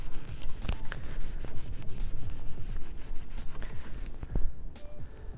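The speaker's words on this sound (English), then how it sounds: "I'm just gonna use some brake clean real quick. Just clean this little section up." Close, irregular rubbing and scrubbing strokes of a rag wiping a vehicle part clean with brake cleaner, quick uneven swipes with small knocks and no talk.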